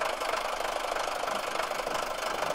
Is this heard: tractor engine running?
yes